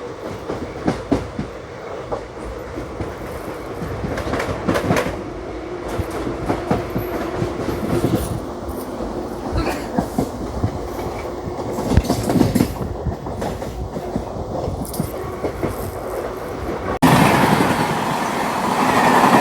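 The Howrah–Secunderabad special train runs along the rails with a steady rumble and repeated clickety-clack of wheels over joints, close and prominent, swelling into a louder roar at the end.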